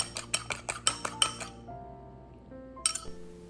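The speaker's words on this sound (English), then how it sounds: "Now mix everything together thoroughly until they're fully incorporated." Shrimp paste with sesame oil, Shaoxing wine, white pepper and beaten egg whites being mixed in a bowl, giving a quick run of close, sharp utensil clinks against the bowl, a pause, then a few more taps.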